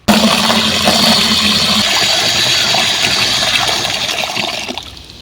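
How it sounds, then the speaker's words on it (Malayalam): Water gushes steadily and loudly into a 20-litre paint bucket holding organic slurry made from vegetable waste and rice water, a continuous pour that tapers off near the end. "ഇനി നമുക്ക് ഇതിനകത്ത് നിറച്ച് വെള്ളം ഒഴിച്ചു കൊടുക്കാം"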